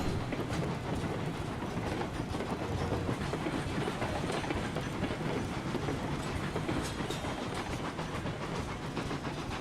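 A steady rumbling steam locomotive in the video game Railroads Online runs continuously on rails with a clickety-clack rhythm and hissing noise throughout, dense and unbroken, with no voices.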